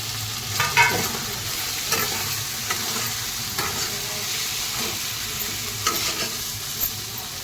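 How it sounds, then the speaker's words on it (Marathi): Soaked sabudana being stirred in a pan with fried potatoes and chillies, a continuous close sizzle broken by repeated scraping strokes of the spoon at an unhurried rhythm. "आपण जो बटाटा फ्राय केला होता तो पण टाकून घेऊया आणि चांगला असं मिक्स करून घेऊया दोघांना"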